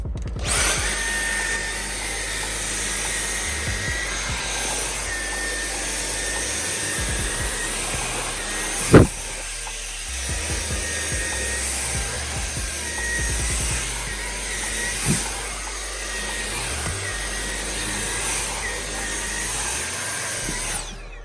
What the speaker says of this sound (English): I'm using a Dyson handheld.